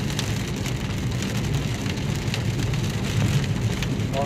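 Heavy rain pours steadily during a storm in Noida, a dense, continuous hiss and patter of drops on surfaces with a low rumble underneath, loud and close throughout with no voices.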